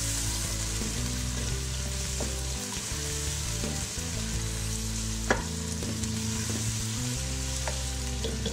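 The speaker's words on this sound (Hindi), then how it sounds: "लहसुन अदरक डाल के इसको थोड़ा सा मैं इसके साथ फ्राई करूंगी" Garlic and ginger frying in a pan for a Lahori chicken and chickpea curry, a strong steady sizzle with stirring scrapes and a sharp utensil knock partway through, beneath a constant low hum, no voices.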